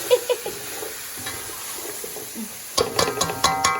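Scotch bonnet pepper and chicken stirred in a pan for Jamaican brown stewed chicken, a quiet sizzle with soft scraping, then brighter clinks and scrapes of the spoon against the pan near the end.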